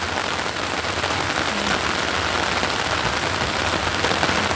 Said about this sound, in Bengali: দেখুন কত বৃষ্টি, কত একদম ছাদে পানি ভরে গেছে।